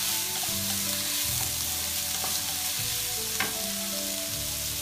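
Chopped onions fry in about three tablespoons of hot oil in a frying pan, giving a loud, steady close sizzle with occasional stirring, and no voices.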